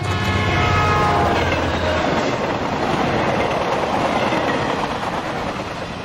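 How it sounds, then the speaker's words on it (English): A video game train thunders past close by, a steady loud roar with rattling wheels and a blaring horn in the first couple of seconds, continuing without voices. "Stop the train!"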